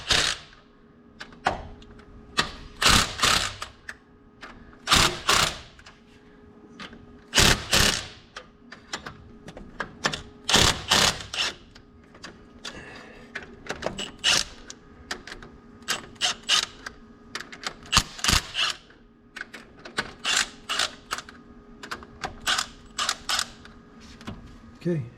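A wrench works loose the bolts on the engine of a long-neglected AMC Rambler wagon, giving irregular ratcheting clicks, creaks and metallic taps up close, with people talking now and then.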